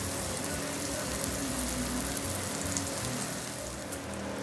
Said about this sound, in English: Now we're gonna put in our cheese, and we're gonna fry that up till it's golden on each side.